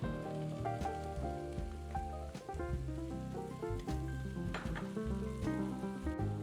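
Herbs, pepper and sweet paprika sizzle steadily in a frying pan with onions while being stirred, a constant close crackle with soft scraping throughout and no talk.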